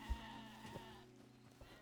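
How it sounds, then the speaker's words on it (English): Sheep in the survival video game Hytale bleat softly in the background, a faint wavering call among light game sounds. "there looks like there's some sheep over here"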